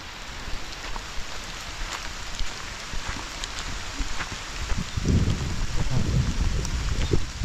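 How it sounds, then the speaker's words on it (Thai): Rain falls steadily outdoors in a storm, a continuous hiss of drops on surfaces with a deeper low rumble building in the last few seconds, no talking. "ฝนตกค่อนข้าง"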